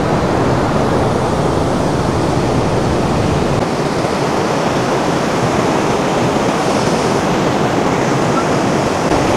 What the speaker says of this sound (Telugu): చక్క వాటర్ అంతా కొండల నుంచి అటుపక్క నుంచి వస్తూ ఇక్కడ ఫాల్స్ అవి అదిరిపోయింది.